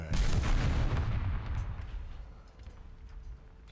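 Tank shell fire from a T-90M in a combat video game, a plunging round: a loud, heavy blast at the start that rolls into a long rumbling decay, with faint distant pops afterward and no talking.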